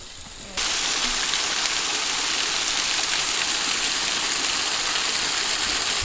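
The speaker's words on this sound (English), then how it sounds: "you get to this waterfall here" A waterfall pours steadily at Kimmeridge Bay, a loud, continuous broadband rush of falling water that starts abruptly after a brief quieter moment and holds constant, close and unbroken, with no talking.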